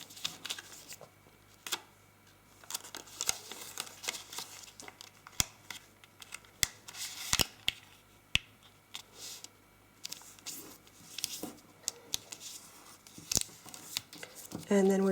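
Paper crinkles, creases and sharp taps while an origami spinning top is squash-folded, soft rustling with scattered crisp clicks, close and quiet.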